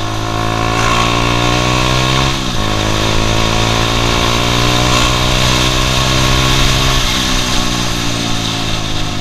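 Honda CBR150R Repsol Edition motorcycle engine running steadily at high revs while riding, loud and close, with a brief dip in pitch around a gear change or turn before it settles back into a sustained drone.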